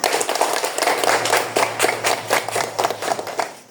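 Applause for a student group's presentation in an Indonesian classroom session, a brief run of dense, fairly close clapping with no talk over it.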